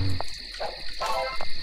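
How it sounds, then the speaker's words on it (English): A wasp camera in The Simpsons Hit & Run gives off a buzzing, croaking drone in short pulses, close and fairly loud over a steady background hum. "as you can hear, the next wasp is on top of one of these trailers"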